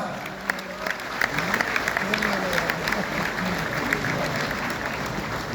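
An audience at a real estate direct-selling event in Warangal applauds as governing council members come onto the stage, with a continuous bed of clapping under an amplified voice.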